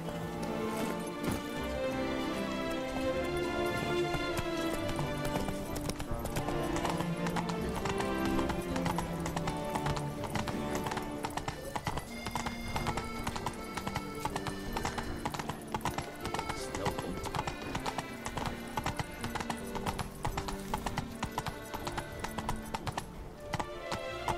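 Horse Roach from The Witcher 3 game gallops with steady clip-clop hoofbeats and an occasional whinny, running continuously beneath a dense orchestral music score.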